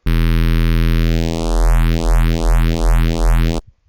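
A loud buzzy square-wave synth bass tone is run through a frequency shifter at 50% mix, its pitch sweeping into repeated rising, whooshing, metallic glides before stopping abruptly.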